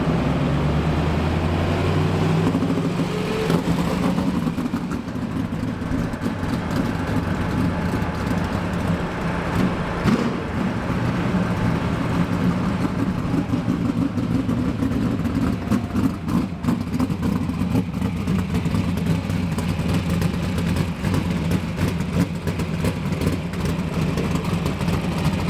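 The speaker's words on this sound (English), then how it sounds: "it was time to fire up the car" A sprint car at Central Motor Speedway in New Zealand fires up with a rising engine note, then settles into a loud, rough, steady idle with occasional blips, close by.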